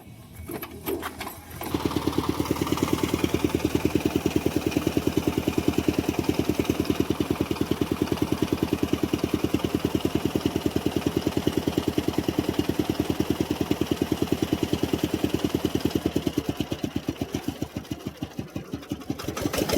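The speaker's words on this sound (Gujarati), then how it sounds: "હવે આપણે મિત્રો નાના ટ્રેક્ટર ને શરૂ કરી મુહૂર્ત કરવાનું છે." A small tractor engine cranks briefly, then catches and settles into a loud, steady, rapid chugging idle close by, slowing slightly toward the end.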